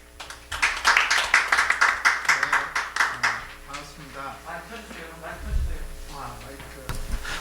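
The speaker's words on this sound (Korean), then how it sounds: "우리 큰 박수로 모셔주십시오." An audience claps to welcome a primary school teacher to the podium at a discussion forum. A burst of fairly close clapping peaks early and then thins out, with a voice talking over and after it.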